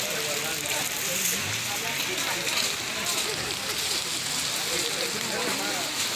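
Rain falls steadily on a surface at a market with separate stalls for clothes, dried fish and fresh fish, a dense continuous patter close by throughout.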